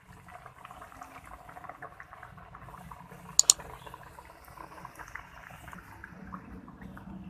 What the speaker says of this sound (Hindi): अब हम दूसरे फ्राई करेंगे।